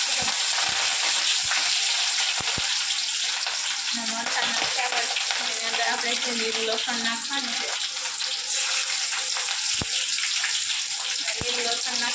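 Mustard seeds frying in hot oil for a carrot curry: a loud, dense, continuous sizzle close up, with scattered sharp pops and crackles throughout and a faint murmur of voices underneath.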